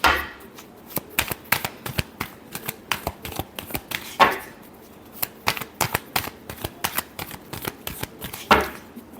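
Tarot cards shuffled by hand, close and crisp, with rapid bursts of riffling flicks and slaps in irregular clusters, a few louder riffles standing out.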